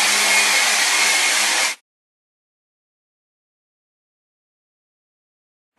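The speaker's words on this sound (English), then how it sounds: "And now, to make it look sexy, I take my blow dryer." A hand-held blow dryer drying hair runs as a loud, steady whoosh for nearly two seconds, then cuts off into silence.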